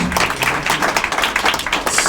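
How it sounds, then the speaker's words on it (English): A crowd claps at a biliteracy awards ceremony for an absent honoree, brisk, dense applause heard briefly and at steady volume. "we'll give him a nice round of applause"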